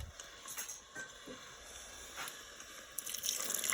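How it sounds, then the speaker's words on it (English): Water is poured into a pan of cooking risotto, giving soft splashes and drips that build into a louder pour near the end, alone without talk. "Add a little more water."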